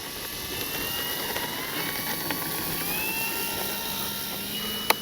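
A radio-controlled F4U Corsair warbird model takes off without flaps at a flying field: a loud, continuous motor drone with a whine that climbs steadily in pitch, and no voices.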